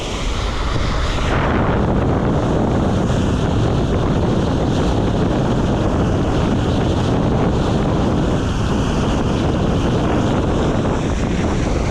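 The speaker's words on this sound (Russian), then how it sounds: "Тут у нас шум волны." Waves wash along beside a ferry crossing a river in Yakutia. A steady, loud rush of water blends with wind buffeting the microphone throughout, with no talking.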